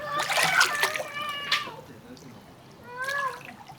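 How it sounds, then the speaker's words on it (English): A child splashes while swimming in a pool during a swim lesson, with light water splashing and sloshing under a voice and an instructor's voice calling out nearby. "Swim back to the stairs, okay?"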